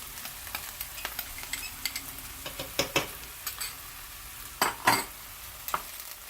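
Green chilies and ginger fry in a pan for methi aloo, a faint sizzle broken by scattered clicks and scrapes of a utensil stirring against the pan.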